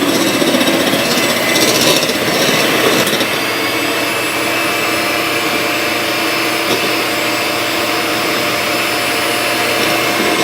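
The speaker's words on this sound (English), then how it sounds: "we can start beating our eggs separately" An electric hand mixer beats eggs for a cake, a loud, steady whirring drone that holds for the whole stretch, with a slightly rougher, churning patch near the start and no talking.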